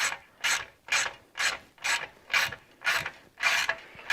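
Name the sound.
ratchet wrench removing a bolt from a Honda CB350 motorcycle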